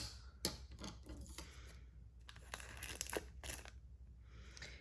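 Scissors cut clear packing tape stickers in quiet, close snips that come in irregular bursts, with faint crinkling of the tape and no talking.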